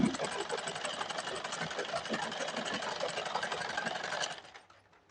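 A sewing machine stitches pajama fabric in one steady, close run of fast, even stitching that stops abruptly just before the end.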